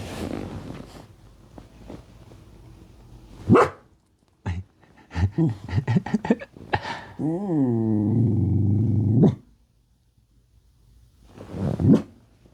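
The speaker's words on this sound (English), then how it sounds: "She usually barks at other dogs that walk by or anything she sees" A dog, a female, barks close by indoors in an irregular burst of several sharp barks, with one drawn-out whining bark in the middle, followed by quiet.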